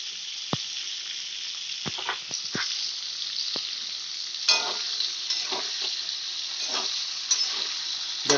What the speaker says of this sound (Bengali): দিয়ে আমি ফুলকপিগুলোকে লাল লাল করে ভেজে নেব।